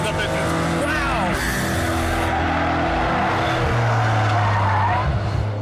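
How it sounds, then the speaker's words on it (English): McLaren F1 supercar with a 627 horsepower V12 BMW engine driving, a loud, continuous engine roar with rising and falling pitch and some tyre noise, constant throughout. "V12 627 horsepower BMW engine is doing the business behind me."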